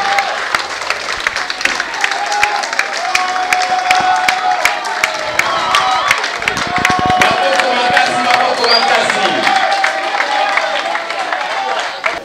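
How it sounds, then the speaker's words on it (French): A crowd applauds during an event with a Swiss ambassador, sustained loud clapping with scattered cheers and voices mixed in, steady for about twelve seconds. "Est-ce qu'on peut applaudir pour elle, s'il vous plaît?"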